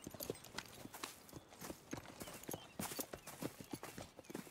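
Horse hooves clip-clopping in the video game Red Dead Redemption 2, a fast, steady run of soft hoof beats with faint background noise, quiet and close, with no speech.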